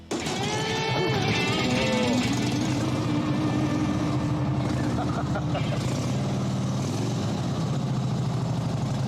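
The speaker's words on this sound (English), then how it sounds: "That engine, that flathead engine, it's just the noise, the sound" A rare vintage motorcycle's flathead engine runs steadily at close range, a constant rumbling drone that persists throughout while people talk over it.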